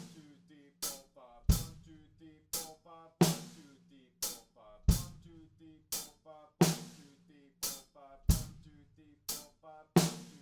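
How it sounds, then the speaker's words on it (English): A slow, lazy drum pattern with hi-hats played in a loose quintuplet feel between straight and shuffled. Crisp hits fall in an even, unhurried rhythm, each decaying briefly, with stronger accents recurring about every second over a short groove. "just to get a really lazy,"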